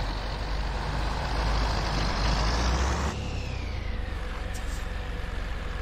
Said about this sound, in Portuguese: Pra vocês aqui o carro por fora passando.